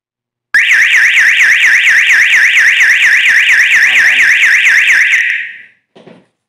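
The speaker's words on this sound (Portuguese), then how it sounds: "o alarme permanece disparado até que você corte a alimentação" A homemade camp perimeter alarm blares a loud, continuous warbling siren for about five seconds before being cut off, followed by a couple of faint clicks.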